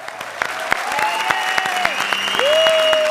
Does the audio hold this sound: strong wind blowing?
no